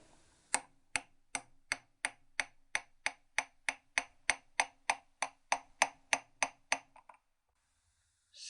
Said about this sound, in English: I'll just tap that one on a bit more